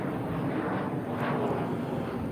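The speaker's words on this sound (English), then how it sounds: "got a plane out here" An airplane passes overhead on a city street in Houston, a steady broadband engine rumble with a faint rising whine, moderately distant and continuous with no talking.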